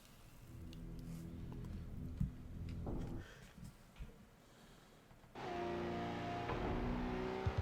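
Racing car engine in the Cruis'n USA arcade game, emulated on an Odroid N2: a low engine drone with short revving bursts, then a sustained high rev on the start line, loud and steady, with no talk.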